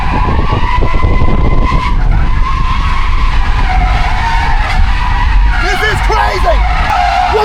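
The world's first Tesla drift car slides sideways, tires squealing and screeching continuously and loud up close, with rising wavering squeals near the end and excited voices talking over it.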